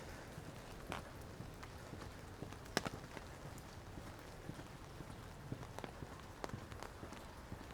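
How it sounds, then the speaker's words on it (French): Light rain falling outdoors during a walk in the rain, a steady soft hiss with scattered faint drip and patter ticks throughout, fairly quiet and even, no talking. "Là, en plus, c'est une toute petite pluie, donc ça va."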